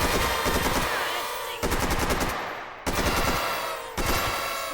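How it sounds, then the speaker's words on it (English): AKM rifle bursts in the VR shooting game H3VR: loud, close automatic fire in rapid rattling strings, broken by brief pauses between about four bursts, with no talk. "That was the AKM"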